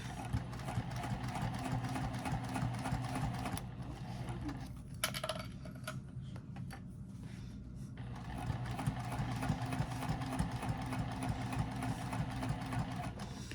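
A sewing machine stitches fabric for a small triangular pouch, a steady close mechanical whir that runs throughout, dips briefly in the middle, then resumes.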